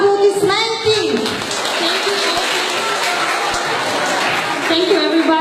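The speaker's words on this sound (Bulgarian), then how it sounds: "Аплодисменти!" Audience applause for a children's school performance comes from a lively crowd, steady and fairly close, with children's and adult voices mixed into the clapping throughout.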